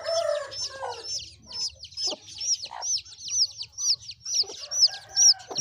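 Aseel fighting rooster crowing repeatedly, a series of clear, fairly close crows and clucks in quick succession, with other fowl calling around it.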